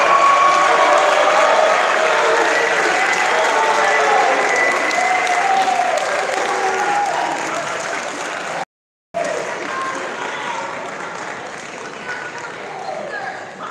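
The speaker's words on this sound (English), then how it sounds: "Let's give them a big round of applause." An audience at a high school signing day gives a long, loud round of applause for student athletes, fading slightly before a brief cut and then resuming.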